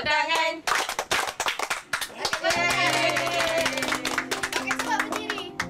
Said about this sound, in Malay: Kalau rasa gembira tepuk tangan